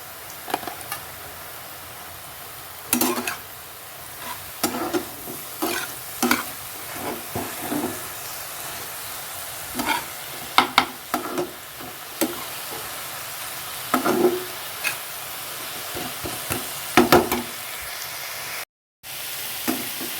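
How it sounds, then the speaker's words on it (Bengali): Onions fry with a little turmeric in a pan for a potato and taro curry, a steady low sizzle broken by scattered scrapes and clicks of stirring, close by and without talk. "পেঁয়াজটা লাল করে ভাজা হয়ে গেছে"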